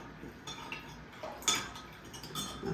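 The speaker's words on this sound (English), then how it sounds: "1/2 tablespoon of salt. And I'm going to give that a stir." Salt stirred into pickling brine: soft, faint clinks and taps of a utensil against a container, close and quiet, with no talk.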